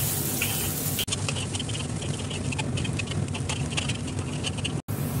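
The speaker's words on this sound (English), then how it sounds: "add onion and cook until it's nice golden brown in color" Onions frying in hot oil with cumin seeds for a spiced okra dish, a steady close sizzle with dense crackling pops running without a break and cutting off briefly near the start and end.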